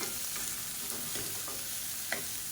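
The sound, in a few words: sautéing chopped bottle gourd in pan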